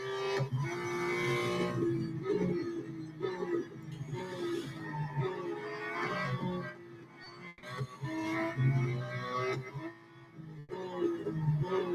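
Porsche 911 GT2 RS racing in an endurance race in Real Racing 3, its engine droning and shifting in a steady, loud, near roar that dips briefly between gear changes.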